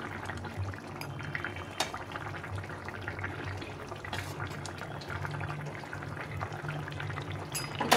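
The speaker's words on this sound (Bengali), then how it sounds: "ঝোলটা ফুটে গেছে, আমি মাছগুলো দিয়ে দেবো।" Fish curry with mixed vegetables simmering in a pot, a steady close bubbling and liquid burble with occasional soft clinks, continuous and fairly quiet.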